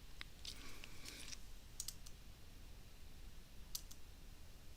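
Computer keyboard, space bar being pressed during a Scratch game session: a few faint, sharp clicks in short bursts near the start and again later, against quiet background hiss.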